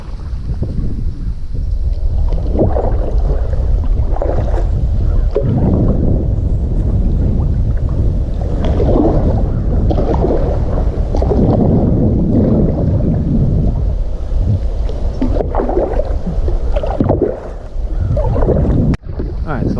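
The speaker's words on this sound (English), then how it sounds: "Alright, so I've been paddling probably about half a mile now." Kayak paddled along a creek with a makeshift stand-in for a lost paddle, heard as steady low water sloshing and splashing under heavy wind rumble on the microphone, continuous and close throughout.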